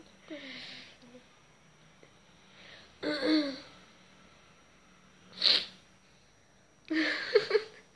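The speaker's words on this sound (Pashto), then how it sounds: "سینه مې خرابه ده، نو ځکه بار بار ټوخي کوم" Several separate bursts of coughing and harsh throat clearing come a few seconds apart, close and fairly loud, with quiet pauses between.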